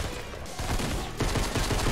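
Loud automatic gunfire in Fortnite, with rapid shots fired in continuous bursts, up close and filling the whole moment.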